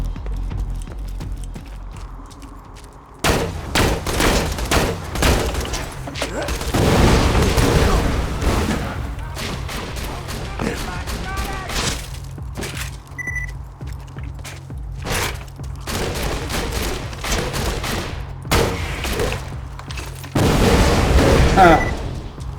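Axton's guns firing in Borderlands 2, repeated bursts of rapid shots in several volleys with gaps between, loud and close, alongside game effects and someone speaking over parts of it.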